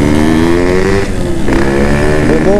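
A Yamaha F1ZR two-stroke motorcycle engine revs loudly and close by, its buzzing pitch dipping and climbing again in short throttle blips, with no talk over it.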